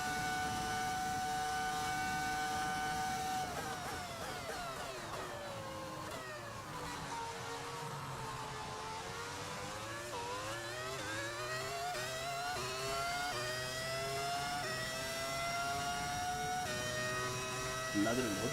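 V10 race car engine in a racing video game at the Temple of Speed, holding steady harmonic whines that rise and fall with revs throughout, loud and continuous beneath intermittent talk.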